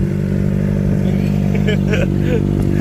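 A Kawasaki ZX4R motorcycle with an SC can exhaust and its catalytic converter still fitted idles loud and steady up close, a deep continuous rumble with someone talking over it.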